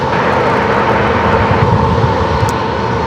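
Southwest Boeing 737 MAX 8 airliner at San Diego airport, a loud, steady jet engine roar close by, unbroken for the whole stretch.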